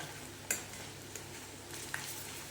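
Ginger paste fries with onions in a pan, a faint steady sizzle with a few light clinks of a spoon against the pan, quiet and close, no speech.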